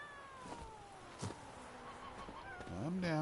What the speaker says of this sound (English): Calm down, kitty.